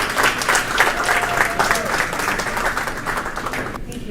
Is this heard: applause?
yes